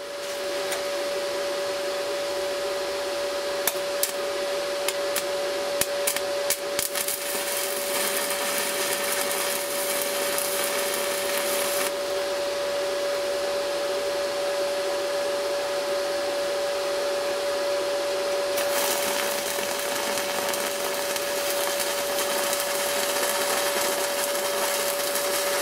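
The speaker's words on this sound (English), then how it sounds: "we'll turn it down and see if it will weld with a really low current" A 6013 stick rod burns at about 25 amps on an R Tech ProArc 135 inverter arc welder, giving a steady, close crackling hiss with a constant tone that runs unbroken for the whole stretch, sharpening briefly in places.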